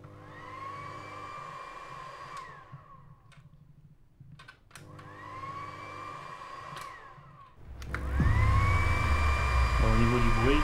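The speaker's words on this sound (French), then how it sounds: "ici le ventilateur intégré fait déjà du bruit" Built-in fan of a machine runs with a steady whir and tonal hum that winds down and restarts, then grows louder near the end with clicks and a deeper rumble; a person speaks briefly.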